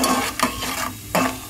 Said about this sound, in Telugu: పల్లీలు కాస్త దోరగా వేగాలి.